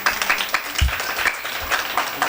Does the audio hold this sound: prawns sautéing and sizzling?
no